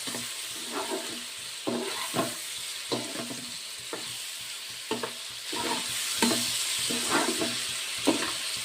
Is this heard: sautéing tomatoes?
yes